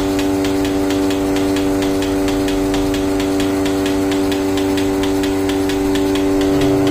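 A portable cow milking machine runs with no milk coming, giving a loud, steady motor hum with a fast, regular pulsing tick repeating over it, close and continuous.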